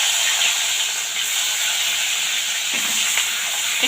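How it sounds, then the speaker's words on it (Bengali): Chopped onion frying in hot oil with a dried red chilli, a continuous close sizzle and hiss that holds steady throughout with no talk over it. "দেবো এখানে একটু পেঁয়াজ কুচি"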